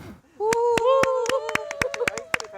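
Guests at a Busan election-campaign gathering clap to welcome an arriving official, a burst of sharp close claps over a sustained voice-like tone, with chatter in the room.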